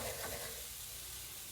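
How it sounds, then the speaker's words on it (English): Flour is stirred into mushroom and onion gravy for smothered pork chops, a soft, steady simmering sizzle with faint stirring, quiet and uninterrupted, without talk. "we're going to add our flour into the gravy, y'all. I am crazy. And we're just going to stir this around for a minute"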